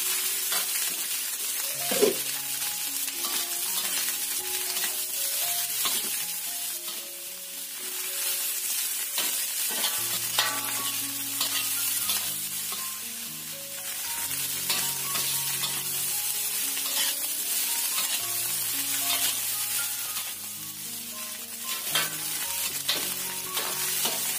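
Fried rice and rice-vermicelli noodles fry in a wok while being cooked down until slightly dry, giving a steady, loud sizzle throughout with faint clinks of stirring and no voices.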